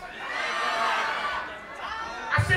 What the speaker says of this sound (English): Can you scream? Everybody say, ah!